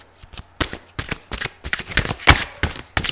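Tarot cards are shuffled repeatedly at close range, a quick series of crisp riffling snaps and flutters.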